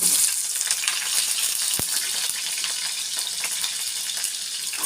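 Onion frying in oil in a pan, a continuous close hiss and crackle that holds steady throughout, with one brief knock near the middle and no talking.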